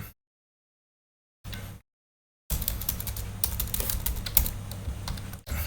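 Rapid clattering of typing on a computer keyboard, close and fairly loud, starting after near silence with a short earlier burst of keys.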